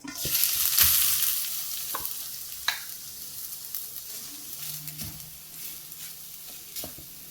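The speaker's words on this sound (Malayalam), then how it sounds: "നല്ലോണം ഒന്ന് ഇളക്കി മിക്സ് ചെയ്യാം" Grated coconut fries in hot ghee for modak as a spoon stirs it, giving a soft steady sizzle broken by occasional scraping strokes against the pan, close and fairly quiet.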